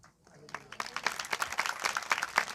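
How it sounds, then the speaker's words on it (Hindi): Audience clapping at a Hindi-language spiritual talk, a scattered ripple of claps that builds into steady applause over a couple of seconds, fairly faint and heard from a distance. "आपने ताली क्यों बजाया पता नहीं"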